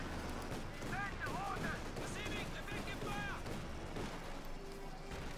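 Machine gun fire and explosions from a war video game tournament match with Vickers guns and Fox Grenadiers, dense continuous battle noise under a commentator's voice.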